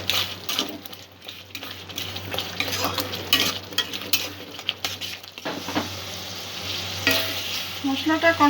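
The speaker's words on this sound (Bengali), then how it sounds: "মশলা থেকে তেল ছাড়া পর্যন্ত মশলাটা আমি কষে নেব।" Spice masala of chilli powder and ground spices being stirred and fried in oil in a pan for prawn pulao, a steady close sizzle with continuous scraping and stirring strokes throughout, no voices.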